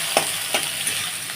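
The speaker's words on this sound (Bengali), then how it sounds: "এবার নাড়ছি, একটু বেগুনগুলো ভাজা ভাজা হবে" Eggplant being stirred and fried in a pan, a soft steady sizzle with a few short scraping stir strokes at intervals, close by and with no talking.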